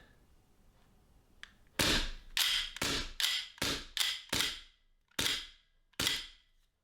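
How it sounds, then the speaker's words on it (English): A Sig Air VFC M17 gas blowback airsoft pistol fires a run of about nine sharp, close, loud cracks, each with a quick decay. Spacing is uneven, with tighter shots early and longer gaps before the last two. "So it managed to get off 3 shots And then with the fourth shot, it just couldn't lock back."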